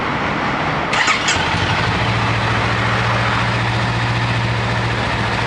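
A Honda 400X motorcycle engine cranks over and catches, then settles into a steady, crisp idle that holds close and even.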